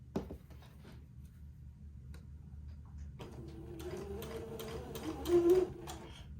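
A sewing machine stitches entredeaux around a garment's neck opening, quiet ticking at first, then a steadier mechanical run with rhythmic needle clatter building to a brief louder burst near the end.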